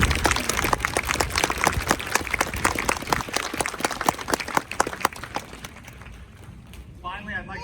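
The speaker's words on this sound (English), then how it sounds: "Let's please have a round of applause for our recruiters and their families." Dense audience clapping at a US Marine Corps recruit graduation for 2nd Recruit Training Battalion, Echo Company, honoring recruiters and their families: sharp, close, rapid claps that thin out and fade after about six seconds, then a brief voice.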